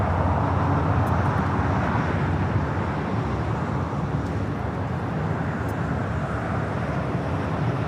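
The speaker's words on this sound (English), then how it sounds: "Next takeoff is that United 777-200 heading to Honolulu" A United Boeing 777-200 jet taking off for Honolulu at LAX, heard as a steady, broad, loud engine roar throughout, without pause or other voices.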